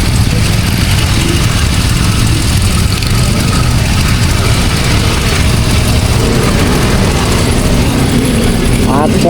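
Dense traffic jam on a busy road, steady rumble of many idling car and motorcycle engines up close with mechanical rattles and a short squeal near the end, voices in the background.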